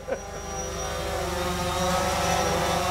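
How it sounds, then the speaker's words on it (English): Drone rotors whir with a steady, loud, continuous drone inside an enclosed van, the tone staying even throughout after a brief knock at the start. "All right, the first trick is to actually get the drone inside here. Very loud."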